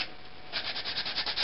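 A power sander grinds against a heat-treated steel knife blade, a steady abrasive rasp pulsing in quick regular strokes, close and alone.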